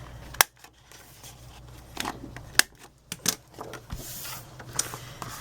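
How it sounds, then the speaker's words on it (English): Paper box flap having its corners rounded, sharp crisp clicks and snips repeating irregularly, close and fairly loud, with soft paper rustling between cuts. "I'm going to round the corners off"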